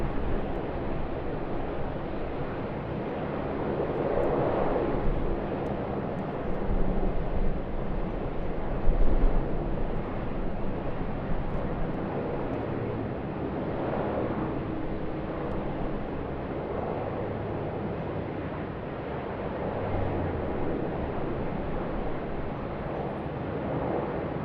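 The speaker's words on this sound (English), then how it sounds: "Next in, a Q400 of QantasLink." A QantasLink Q400 turboprop comes in to land at Sydney Airport, a steady broad engine roar held at moderate distance for the whole stretch, swelling slightly in places with wind buffeting the microphone.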